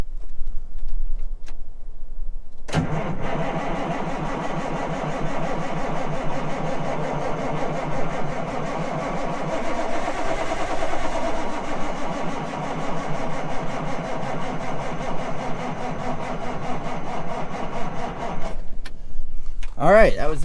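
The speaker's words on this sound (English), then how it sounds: "So, see if she fires up. A little cold start action for you guys." A cold Peterbilt truck engine is cranked for a long, continuous stretch of about sixteen seconds without catching, then the starter cuts off into near silence.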